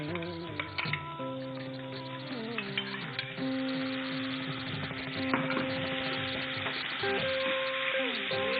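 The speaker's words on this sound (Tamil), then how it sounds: "இது லேசா வதக்குங்க." Ground masala paste sautés in hot oil on a low flame for fish avial, giving a continuous sizzle and crackle under background music and tonal sounds, with no speech.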